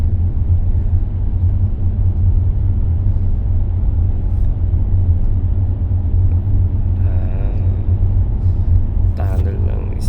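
A car drives through a long undersea road tunnel in Stavanger, a loud, steady low engine and road rumble filling the space, with people briefly talking inside the car near the end.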